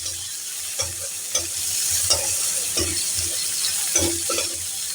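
Chopped small onion sizzling in hot oil for tempering mung dal with fish head, a steady bright fry broken by periodic clinks and scrapes of stirring in the pan.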